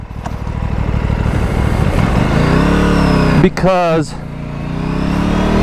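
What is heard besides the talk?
RS 457 motorcycle engine while riding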